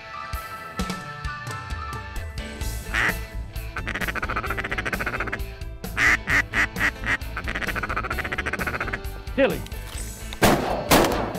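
Sharp gunshot blasts ring out amid a chorus of quacking ducks during an Arkansas duck hunt, with calls repeating steadily and shots cracking through near the start and end.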